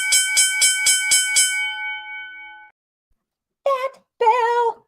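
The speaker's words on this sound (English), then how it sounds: "That bell!" A bell rings in a quick, regular series of about six strikes with a long ringing decay, heard near and alone, followed by a brief voice exclaiming.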